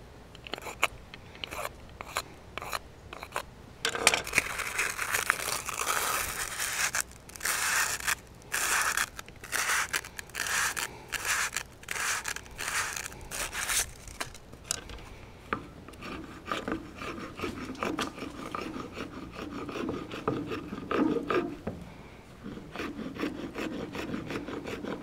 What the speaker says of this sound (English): You can also use the round file. It's real good for this.